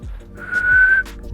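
A single sustained, high referee's whistle tone rising out of low background rumble, lasting under a second before cutting off, during a simulated Euro 2024 football match.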